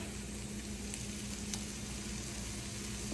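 Zucchini and garlic sauté in a hot pan with a steady, dense sizzle that holds at an even level throughout, close and continuous with faint crackles and no talk.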